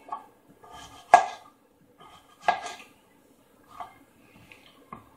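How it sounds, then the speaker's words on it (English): A knife cuts through squash in a metal pan, giving a few sharp clinks and scrapes at irregular intervals, close and fairly quiet, with a faint voice under one of them. "Just keep cutting, cutting,"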